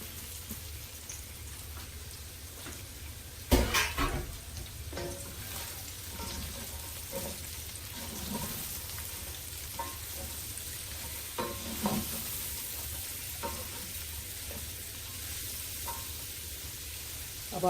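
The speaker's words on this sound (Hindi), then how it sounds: "अब इसी स्टेज पे हम इसमें वेजिटेबल ऐड करेंगे। ये रेड, ग्रीन, येलो और ऑनियन करेंगे।" Red, green and yellow peppers and onion fry in a pan for chicken jalfrezi, a steady close hiss with scraping stirs and a few louder clatters of the utensil, no talk.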